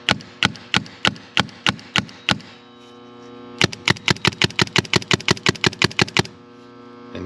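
A Planet Eclipse EMEK 100 paintball marker cycles with sharp, evenly spaced mechanical clicks, first a slower run of shots, then a pause with faint hum, then a faster burst, close and crisp.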